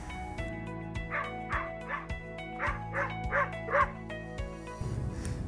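A dog gives repeated short yips and whimpering barks during a sit training session, a steady run of about seven bursts over a constant background hum, with a louder noisy patch at the end.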